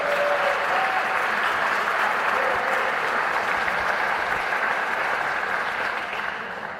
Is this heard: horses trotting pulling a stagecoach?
no